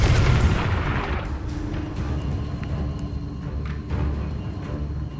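A Confringo explosive spell in the Hogwarts Legacy video game lands with a loud, close blast at the start, then settles into a rumbling, crackling tail with scattered smaller game effects and no voices.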